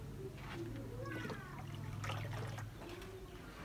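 Water runs from a hose pipe into a bowl indoors, a steady soft trickle heard fairly near, with birds cooing faintly in the background.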